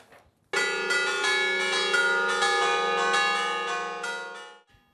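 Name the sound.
church bells ringing festively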